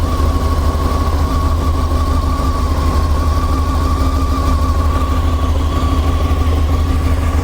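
A motorcycle engine idles loudly and evenly while its carburetors are being balanced, a close, constant low rumble with a steady hum and no talking.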